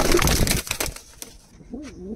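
Giribaz pigeons in a loft give a brief low cooing call near the end, after a burst of rustling and clatter, close and fairly quiet.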